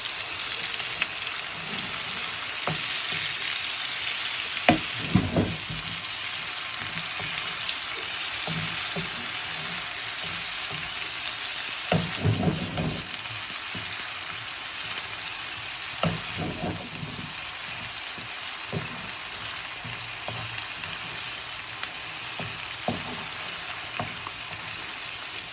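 Gravy for an eggplant and prawn curry fries in a pan with a steady, close sizzle, broken by occasional scraping stirs and clinks of the spatula; no one speaks.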